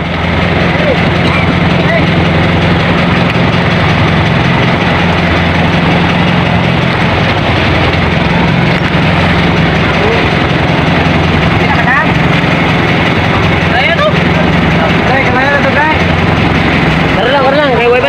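A boat engine runs steadily at sea during a rescue of three capsized boats in the Sulu Sea during a typhoon, a loud continuous low drone throughout, with voices talking over it.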